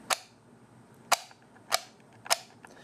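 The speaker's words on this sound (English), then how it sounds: "So as they advance, yeah, nice," A 3D-printed Enigma machine rotor on a stainless steel 8mm shaft advances with four sharp, crisp clicks about half a second apart, close and alone in a quiet room.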